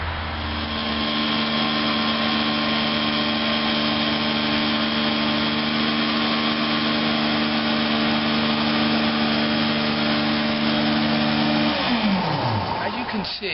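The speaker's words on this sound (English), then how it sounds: "One of the major advantages of a rotary dry master, it picks up 6 times the amount of water that a wand does" An electric Rotary Dry Master carpet cleaning machine extracts water from a carpet in a home. Its motor gives a loud, steady whine and rushing drone that holds nearly throughout, then winds down near the end.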